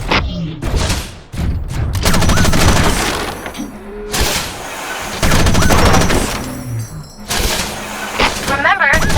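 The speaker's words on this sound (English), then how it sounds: "Remember to fire your machine gun in bursts." Mech machine gun fire in Front Mission Evolved, loud repeated bursts with heavy thuds and booms between them, a voice speaking over the action at times.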